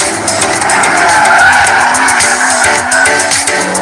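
Honda NSX driving hard with sustained tire squeal and skidding under a steady, loud engine drone, the screech holding continuously throughout with no talking.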